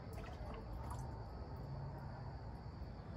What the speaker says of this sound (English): Now it's time to pour in our Bifen.